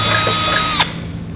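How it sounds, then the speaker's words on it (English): A power drill whines at steady high speed while drilling bolt holes for a tow base plate on a 2009 Subaru Forester, then spins down abruptly with a brief thunk as it stops, close and loud. "go through and drill in each mounting location"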